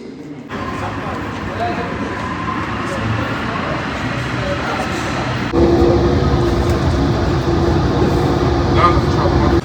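A Dubai airport metro train rumbles steadily up close, a continuous rolling roar with a brief shift partway through as the ride noise grows slightly louder, and faint voices in the background.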